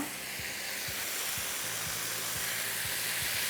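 Whole cumin and boneless chicken frying in a pan, a loud, steady close-up sizzle with a regular soft scraping or stirring pulse about every half second, no talk.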